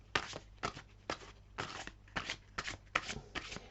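Tarot cards being shuffled by hand, several quick riffling bursts in a row, close and fairly quiet with short pauses between them.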